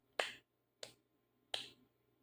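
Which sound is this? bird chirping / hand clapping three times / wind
hand clapping three times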